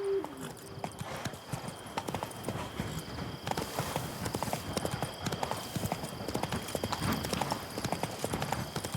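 Horse hooves clip-clop at a steady gait in The Witcher 3: Blood and Wine, a close, regular beat of clattering hoofbeats with occasional snorts, and a brief voice near the start.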